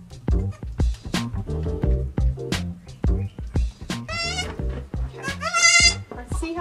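Newborn baby goats bleat repeatedly up close, a series of loud wavering cries overlapping with one another and with soft talking nearby.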